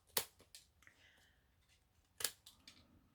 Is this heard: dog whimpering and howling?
no